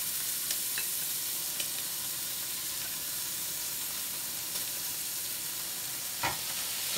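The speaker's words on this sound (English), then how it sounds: "Now cooking up my rice." Bacon fried rice frying in a preheated pan while being stirred, giving a steady close sizzle with occasional sharp scraping clicks from the utensil; no one talks.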